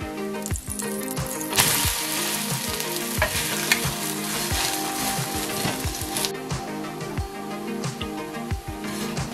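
Foxtail millet adai frying on a hot pan crackles and sizzles steadily up close, with scraping and spatula turning sounds throughout and no talk.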